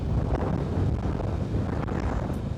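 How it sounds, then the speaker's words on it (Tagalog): Low, rumbling wind buffets the microphone steadily the whole time on a motorcycle ride in Davao, a constant blustery roar with no talking. "Pasensya na kapag medyo mahangin"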